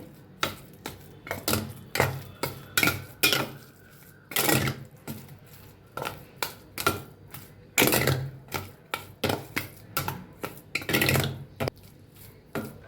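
A spoon stirs cardamom powder into a semolina dough mix in a bowl, giving a close, rhythmic clatter of repeated knocks and scrapes with brief pauses.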